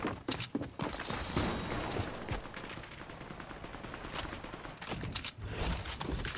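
A primal shotgun blasts in a video game, with clusters of sharp, loud shots near the start and again near the end around a denser, rumbling stretch of action noise.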